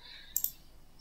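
A mouse click selects a menu in an online tax withholding form, a quick, faint double click over a quiet background.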